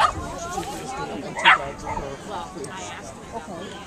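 A dog lets out one sharp bark midway, with softer yips and whimpers scattered around it.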